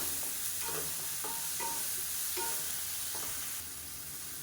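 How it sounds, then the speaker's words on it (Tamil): Tomatoes and small onions sauté in a pan for a chutney, making a continuous moderate sizzle broken by several soft spatula stirs and scrapes. "இப்போ தக்காளி வெங்காயம் எல்லாமே நல்லா வதங்கிருச்சு"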